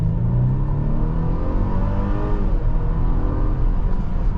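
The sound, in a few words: 2023 Mercedes-Benz GLC300 Coupe 2-liter turbo accelerating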